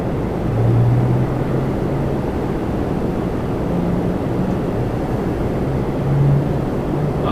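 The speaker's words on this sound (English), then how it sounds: "Off to Lisbon on a 321 Neo." Air Portugal Airbus A321neo departing runway 24 right at Toronto Pearson, bound for Lisbon: a steady low jet roar that swells slightly near the start and again near the end, with no voices.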